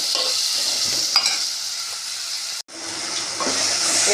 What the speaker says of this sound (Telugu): ఆనియన్స్ వేగినాయండి టమాటా ముక్కలు వేసుకుందాం ఈ ఒక ఫైవ్ మినిట్స్ మగ్గనిద్దామండి టమాటా ముక్కల్ని